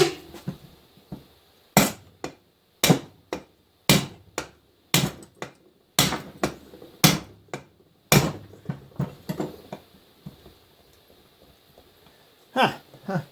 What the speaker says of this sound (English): I'm going to go get a bigger hammer.